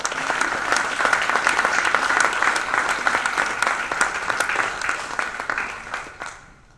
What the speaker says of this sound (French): Je vous demande aussi de faire tout autant d'applaudissements